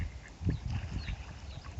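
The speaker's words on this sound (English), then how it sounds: "There's all the ducks as well." Ducks quack in short, scattered calls outdoors near the water, fairly faint and mixed with low background rumble.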